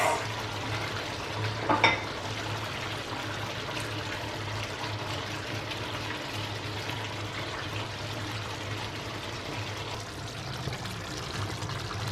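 Sweet peppers added to chicken in oyster sauce sizzle steadily in a pan, a soft continuous frying hiss with a brief clatter near the start, close and without talk.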